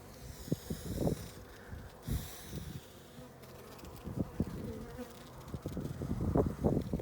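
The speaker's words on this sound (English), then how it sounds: "Let's see if I can get some bees to move." Honey bees buzzing over a hive frame with larvae in the cells, a steady close hum with louder swells as individual bees move near, no talking.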